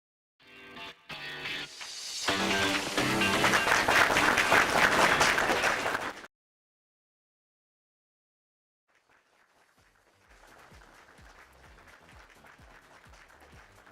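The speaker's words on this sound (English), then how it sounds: "let's give a round of applause for the amazing session" A conference audience at MICOPSY 2024 gives a round of applause after a presentation: a loud, dense burst of many hands that stops abruptly, then a long pause and a quieter, thinner patch of clapping.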